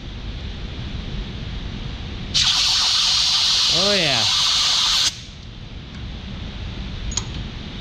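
Compressed air nozzle blowing out a waterjet feeder tube: one loud, steady hissing blast lasting about three seconds, close up, with a short spoken remark during it and quiet room noise before and after.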